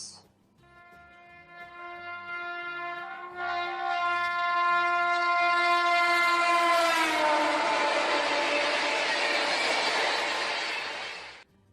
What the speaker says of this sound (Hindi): जो ट्रेन की आवाज है, उसके हॉर्न की आवाज